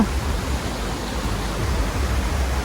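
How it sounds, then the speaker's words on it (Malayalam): Mountain water running gently down over a rocky garden near Darjeeling, a steady, even rushing wash with no voices. "ചെറിയൊരു ഫോഴ്സിൽ ഇങ്ങനെ മലമുകളിൽ നിന്ന് വരുന്ന വെള്ളമാണല്ലോ"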